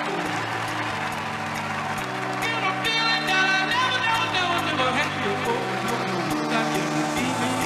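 An audience at the Miss Universe pageant applauds in a steady, roaring wash under music and an announcer's voice.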